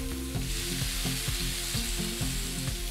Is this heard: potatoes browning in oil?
yes